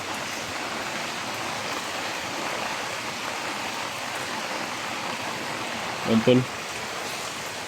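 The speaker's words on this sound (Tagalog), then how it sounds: "sisilong muna kami dito kasi lakas pa yung ulan" Heavy rain pouring steadily as a dense, even hiss, with a brief voice breaking in near the end.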